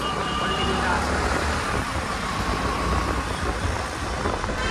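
Heavy road traffic backed up after an accident, with a continuous rumble of idling and creeping engines close by and a dense, steady wash of vehicle noise.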